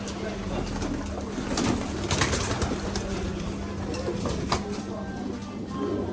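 Soft pigeon cooing repeats among a noisy outdoor backdrop, with scattered flutters and voices talking nearby.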